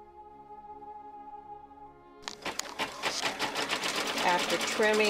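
An embroidery sewing machine stitches a placement line on fabric, starting after about two seconds of low steady hum and then running as a loud, rapid, continuous mechanical chatter up close.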